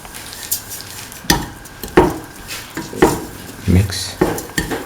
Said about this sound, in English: Mix thoroughly with the carrots.